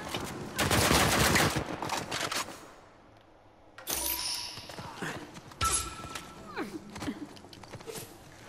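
Rapid gunfire from an Uncharted 4 multiplayer match, loud dense bursts at first, then a brief lull before scattered shots, impacts and game effects resume, with a player's voice occasionally over the action.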